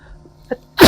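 A single close, loud human sneeze bursts out near the end of the second, preceded by a brief faint sound and near silence, with no talk.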